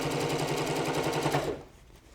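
Sewing machine stitching a seam on a dress, a rapid even run of needle strokes close up for about a second and a half, then stopping.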